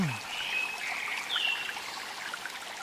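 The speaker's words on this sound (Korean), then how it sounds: "작업을 하기 전 시냇물 소리를 켜고 그림 그릴 준비를 하네요." A recorded babbling stream plays indoors while an artist prepares to paint, giving a steady soft trickle of flowing water with a few high bird-like whistles above it.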